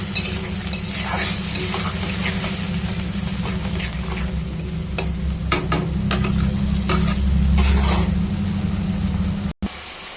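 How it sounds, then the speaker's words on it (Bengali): Spices and green chillies sizzle and fry in hot oil in a home kitchen pan, with a steady crackling hiss, a low burner hum and occasional stirring scrapes, close and continuous until a brief sharp break near the end. "মশলাটা দিয়ে দিলাম তেলে, আমি একটু ভাজা ভাজা করবো"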